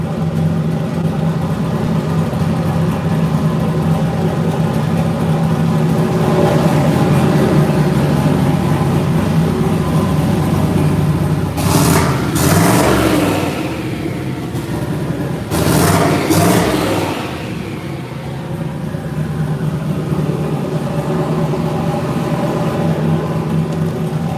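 A car engine idling steadily during a cold start, a close, even mid-pitched hum held for the whole stretch, interrupted midway by two short bursts of broadband hiss or clatter.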